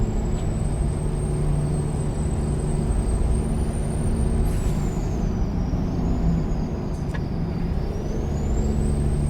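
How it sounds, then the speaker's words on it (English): Truck engine drones steadily in American Truck Simulator with a high hissing whine riding above it and brief air-brake hisses near the middle, loud and continuous with no voices. "But I need to step on the brake."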